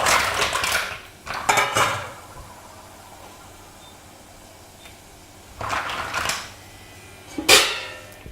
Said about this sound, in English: So now I'm going to tip these mussels in there.